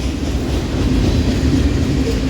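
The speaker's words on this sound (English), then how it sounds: "Leading today's ballast train extra will be Dash 944 CW 9704." A GE Dash 9-44CW locomotive nearly 20 years old leads a ballast train extra, a loud steady rumble of engine and rolling wagons passing close by.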